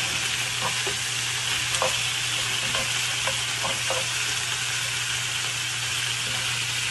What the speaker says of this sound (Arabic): نقلبها مع بعض كذا.